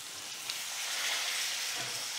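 Steak fries in a cast-iron pan with a loud, steady crackling sizzle, close up and continuous, with no voices over it.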